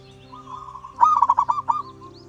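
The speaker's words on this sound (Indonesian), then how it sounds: "Suara perkutut lokal cenderung lembut dan cocok untuk suasana rumah yang tenang." A soft, rolling zebra dove coo sounds out in a short burst of quick warbling notes, fairly close, over a faint background hum.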